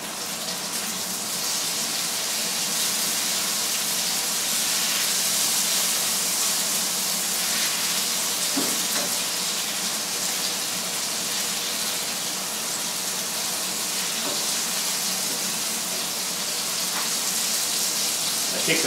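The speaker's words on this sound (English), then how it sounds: "My cakes are frying real nice." Salmon cakes frying in a pan, a steady loud sizzle with dense crackling hiss that holds evenly throughout, close by and with no talking.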